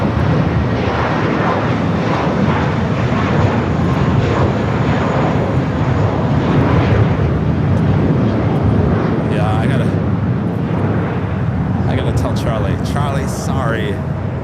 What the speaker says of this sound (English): it's our next takeoff here on the south side